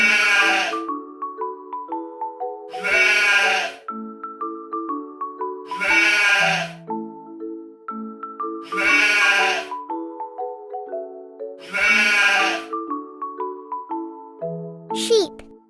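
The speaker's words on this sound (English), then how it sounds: "goat." A cartoon goat bleats in five loud, wavering calls spaced evenly over a bright, tinkling children's music backing, ending with a short chime, as part of a farm animal learning song for toddlers.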